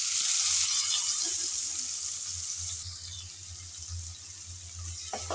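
Chopped onion drops into hot oil already holding bay leaves, cinnamon sticks and cardamom for a broiler chicken dish, producing a continuous close sizzle that is loudest at first and then settles into a steady crackling hiss.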